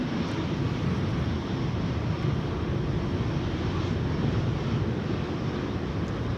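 Embraer E2-195 airliner landing on runway 22 at Schiphol Airport in stormy weather, a steady broad engine roar with wind noise running unbroken throughout, loud and close with no voices.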